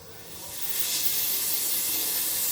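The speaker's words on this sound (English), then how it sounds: "So, okay, I'm gonna spray" One long, loud hiss of hair spray from a can, rising quickly and holding steady for a couple of seconds, close by.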